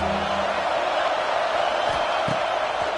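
Stadium crowd noise from an American football video game during a big third down, a steady roar of cheering behind the defense filling the whole stretch with a few faint low thumps.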